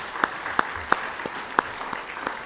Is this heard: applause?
yes